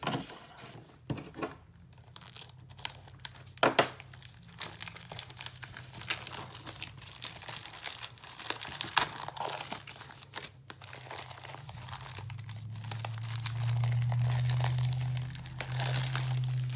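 A Stampin' Up Paper Pumpkin craft kit package is torn and opened up close, with crinkling paper and plastic, sharp rips and rustling handling, plus a low hum rising toward the end.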